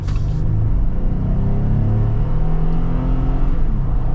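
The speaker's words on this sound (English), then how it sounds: "We're gonna get our little acceleration here." A 2023 AEV Wrangler JL370 with a V6 engine accelerating, a loud, steady low rumble and rising engine drone heard from inside the cabin, continuous throughout.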